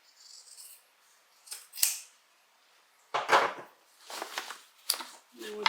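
Scissors cut through bag-making fabric or interfacing in several short, crisp snips spread across a few seconds, close and fairly quiet, with light handling rustle between the cuts.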